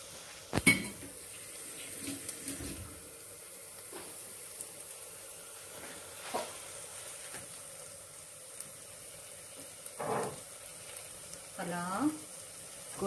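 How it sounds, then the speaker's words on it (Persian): Chopped herbs and vegetables sizzle softly in a cooking pot for a northern Iranian vegetarian stew, a steady quiet frying hiss broken by occasional clinks of a utensil against the pot. "تقریبا دو دقیقه میشه که من سبزی ریختم داخل قابلمه"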